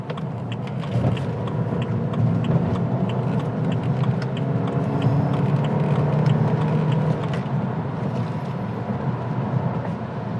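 A BMW 320i SE E90 accelerates on a test drive, with a steady, loud engine and road drone heard from inside the cabin and no talk.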